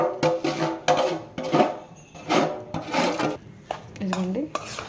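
Ravva laddu mixture is stirred in a pan, making intermittent scraping and clinking of a utensil against metal in short close bursts, with a brief spoken remark near the end.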